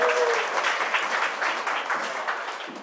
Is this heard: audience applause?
yes